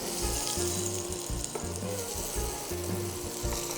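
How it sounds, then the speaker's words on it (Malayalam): Two tablespoons of butter melt and sizzle in a hot pan, a steady close crackling hiss with low bubbling underneath and no talking. "അപ്പോൾ നമ്മുടെ പാൻ ചൂടായി വന്നു. ഞാൻ ഇതിനകത്തേക്ക് നമ്മുടെ ബട്ടർ ആഡ് ചെയ്തിട്ടുണ്ട്."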